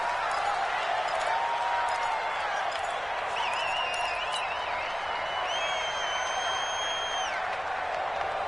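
Stadium crowd noise in the football video game Madden 20, a continuous dense roar with rising cheers and whistles, with commentary talking over it throughout.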